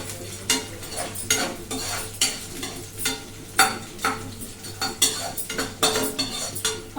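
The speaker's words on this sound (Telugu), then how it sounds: "శనగపప్పు మినప్పప్పు మంచిగా వేయించుకోవాలి." Chana dal and urad dal fried in a pan with green chilli, curry leaves and peanuts, stirred by a metal spoon that scrapes and clinks in a steady rhythm over a soft sizzle, close and fairly loud.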